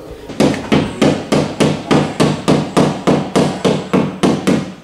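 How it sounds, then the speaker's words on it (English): A hammer strikes a car wheel arch to roll the lip, a steady rhythm of about a dozen sharp, loud metallic blows, evenly spaced around three per second, close up with no talking. "we borrowed this arch roller, and we're just using a fucking hammer"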